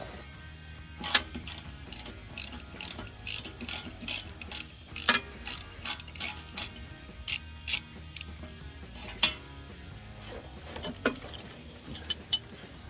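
Ratchet loosening the transmission mount bolts while removing a Turbo 400 transmission, bursts of sharp clicking pawl strokes in an uneven rhythm, close and clear with quiet gaps between pulls.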